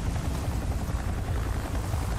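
Helicopter rotor noise from Resident Evil 4 Remake, a dense, steady low thudding roar throughout with no break.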